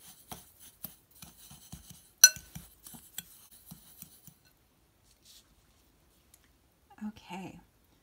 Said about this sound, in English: I'm just going to take a regular old fork and mix it up